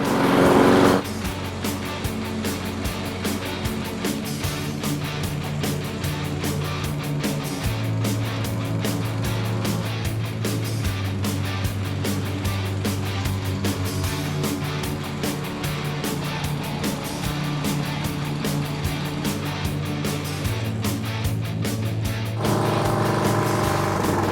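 A Toro Recycler Max push mower cuts long grass, its engine running as a loud steady drone with shifting load and a busy rattling edge, strongest at the start and finish.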